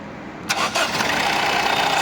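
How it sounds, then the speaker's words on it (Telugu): A 2016 Honda City car engine cranks briefly on its self-starter and catches, settling into a steady, close idle after about half a second, with no talking. "సింగిల్ సెల్ఫ్ బండి స్టార్ట్ అవుతుంది."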